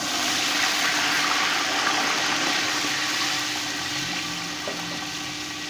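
Water gushes steadily into a cooking pot with a full, rushing splash that gradually softens as it continues; no speech.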